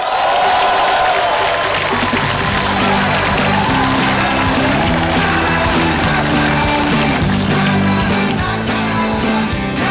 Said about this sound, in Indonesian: beri tepuk tangan yang meriah untuk Mario Teguh